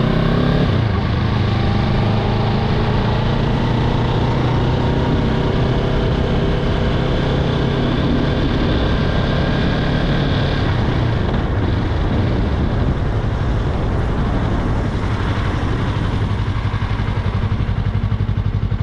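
A 2024 Yamaha YZF-R3 motorcycle accelerating hard through the gears to the rev limiter, its engine roaring loud and close with rising pitch sweeps under constant wind noise.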